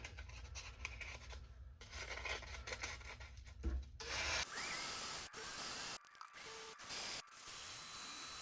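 Sanding with 220 grit sandpaper on metal parts from a Sharp boombox repair. Close, uneven rubbing and rasping strokes come in bursts separated by short pauses, with no talk.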